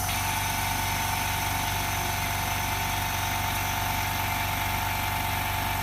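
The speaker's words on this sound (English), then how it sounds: "the bubble removal machine, it will connect with air compressor also" A bubble removal machine for refurbishing iPhone 6 LCD screens runs with its connected air compressor, giving a steady, continuous mechanical hum and drone with a constant tonal whine, unchanging throughout and with no talking.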